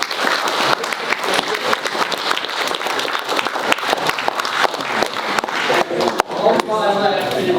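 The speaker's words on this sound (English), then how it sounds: "We give a applause for" Lively applause from spectators at a race walk presentation, a thick run of crisp claps at close range that keeps going with only small swells, with a few voices and a sharp knock near the end.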